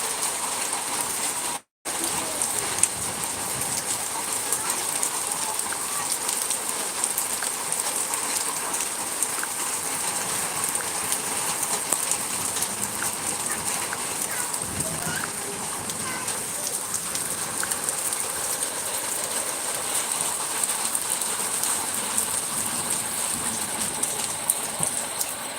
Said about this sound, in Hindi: 16 तारीख का मौसम देखिए, आज बड़ा भयंकर हो रखा है और ओले गिरने शुरू हो गए